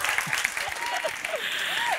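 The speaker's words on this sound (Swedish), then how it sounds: "Ja, en stor applåd" Audience applause fills an awards gala hall, a steady dense wash of clapping with a few voices calling out faintly underneath.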